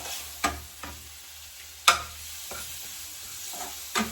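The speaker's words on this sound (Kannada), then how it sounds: "ಉಪ್ಪು, ಅರಿಶಿನ ಎಲ್ಲ ಹಾಕಿ ಲೋ ಫ್ಲೇಮಲ್ಲಿ ಫ್ರೈ ಮಾಡ್ಕೊಂಡ್ಬರ್ಬೇಕು" Spices such as chili powder, garam masala, coriander powder, salt and turmeric fry in gravy over a low flame, giving a soft steady sizzle broken by several sharp scrapes of stirring spread unevenly through the stretch.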